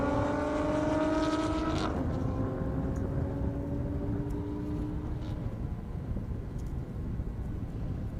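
Drag cars, including a Toyota Supra, race side by side down a half-mile airstrip. Rising engine tones climb and then break off early, leaving a steady, fairly distant roar and rumble that carries through to the end.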